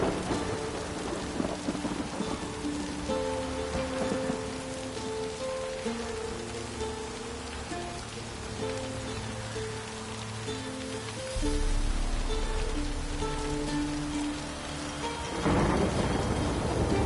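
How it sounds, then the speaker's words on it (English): Steady heavy rain with rolling, rumbling thunder in The Witcher 3 video game, a continuous dense wash with low booms swelling late on, under soft background game music. "The storm, damn it."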